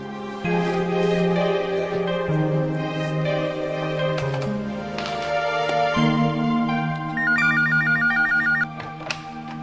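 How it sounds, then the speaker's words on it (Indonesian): Telephone ringing in an Indonesian drama scene, sounding as a repeated electronic ringtone over a loud musical background, with a higher beeping ring pattern toward the end and no speech. "Pak, ada telepon dari Pak Bandrio."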